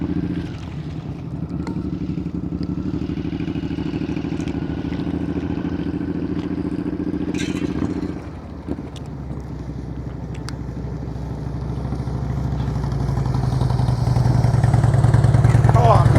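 A motorcycle engine idles and putters at slow speed during a riding-skills practice session, a steady low drone that swells louder toward the end, with brief clatter midway.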